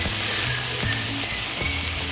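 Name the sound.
beef sisig frying, sizzling in pan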